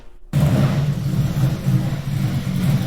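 A restored 1993 rally car engine runs close and loud after a sudden start, a rough low rumble with uneven pulsing that hints at snapping and popping, with no talking.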